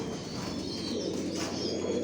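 Many racer pigeons coo together inside a loft, a constant low, burbling chorus that holds at an even level throughout.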